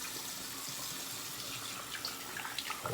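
Tap water runs steadily from a faucet into a sink for rinsing after a shave, a continuous close splashing flow with a few brighter spatters near the end.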